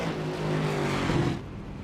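A racing car, the number 42 machine, doing a burnout on track, a loud sustained engine roar with tire screech that drops away near the end, heard briefly and without talk.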